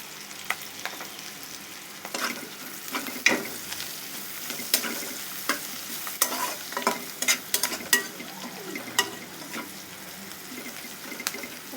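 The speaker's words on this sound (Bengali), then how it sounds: "গুলো দেখেন ভাজা ভাজা হয়ে আসছে" Potatoes frying in oil in a pan for prawn chachchari, a steady sizzle broken by frequent scrapes and knocks of a spatula stirring, close by, with no talking.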